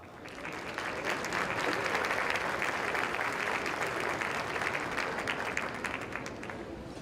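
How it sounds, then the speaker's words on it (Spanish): Sustained audience applause at a national auditors' conference welcomes speaker Jan Van Damme, a dense steady clapping from a large hall crowd that swells early and holds before tapering slightly. "Recibamos con un fuerte aplauso a Jan Van Damme."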